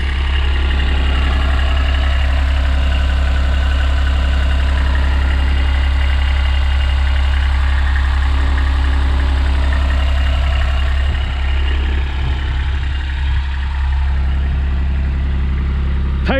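A 2013 Kubota RTV1100 4x4 diesel utility vehicle with a hydraulic dump box idles steadily and close by, a low, even rumble that runs alone with no one speaking.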